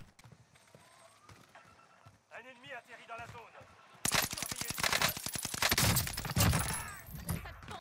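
Rapid PPSh submachine gun bursts in a video game, loud dense automatic fire starting midway after quieter game sounds, with a voice talking throughout.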